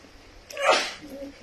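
A single sneeze bursts out near the middle, loud and close, briefly rising above quiet room tone during a meal of rice with pepper and onion stew.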